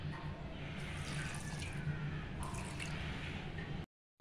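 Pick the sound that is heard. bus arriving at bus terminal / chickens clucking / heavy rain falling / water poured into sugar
water poured into sugar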